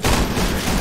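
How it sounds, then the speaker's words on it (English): Dense gunfire in a video game war, a continuous crackling barrage of overlapping shots that fills the short moment at steady loudness with no pauses. "The gunfire's still going."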